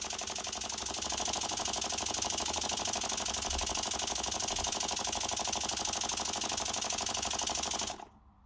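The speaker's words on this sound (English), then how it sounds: "It's still running nice" A Stuart Progress model steam engine runs at a steady pace, its rapid, even exhaust beats close and continuous for several seconds before they stop abruptly near the end.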